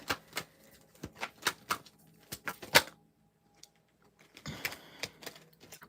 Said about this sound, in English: Y'all hear me shuffling, right?